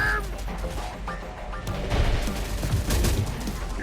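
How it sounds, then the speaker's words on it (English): Heavy gunfire in Terminator: Dark Fate, a dense rolling fusillade of shots and crashing impacts that builds in loudness over a few seconds. "Taking heavy fire."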